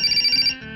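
A telephone rings in a Hindi action comedy film, a bright electronic trill pulsing rapidly for about half a second, loud and close, then cutting off.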